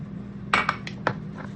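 Three eggs cracked and tipped into a bowl of cabbage for fried cabbage patties, giving a few brief clinks and taps against the bowl over a low steady hum.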